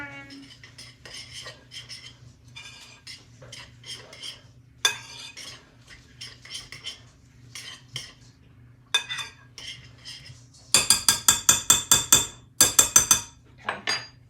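Crab cake mixture with garlic powder is stirred in a bowl, giving repeated scraping and tapping of a utensil, with a quick run of louder, evenly spaced clinks near the end.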